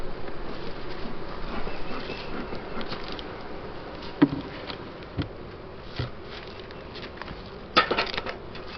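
Honey bees hum steadily around opened, restacked hive boxes, a continuous close buzz with a few sharp knocks and taps from the equipment and no talking.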